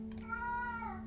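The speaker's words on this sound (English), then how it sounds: "My cat is yelling in the background" A pet cat yowls in a long, drawn-out wail that rises and falls, heard indoors at a house over a steady low hum, fairly quiet and alone.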